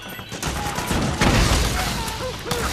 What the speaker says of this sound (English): Suppressing fire! Go, go, go!